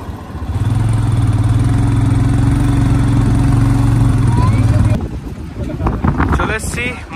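A motorcycle rides a scenic mountain road through pine forest toward Manikaran, its steady engine drone mixed with wind rush, then cutting out abruptly as people begin talking.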